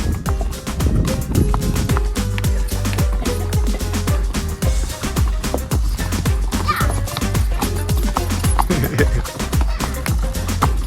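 Horses on a half-hour ride back to a mountain chalet near a volcano, hooves clip-clopping in a steady trotting rhythm, close and fairly loud under music or ambient noise throughout.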